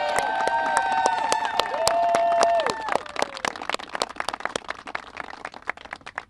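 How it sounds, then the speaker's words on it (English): A crowd at a press conference claps and cheers loudly, with shouts and whistles at first, then the applause thins into scattered claps. "Can we get one more round of applause for Representative Al Green?"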